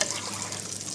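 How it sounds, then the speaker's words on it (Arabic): Water pours steadily into a cooking pot of meat stew on the stove, a brief continuous splashing rush heard close up. "هنا نضيف مي"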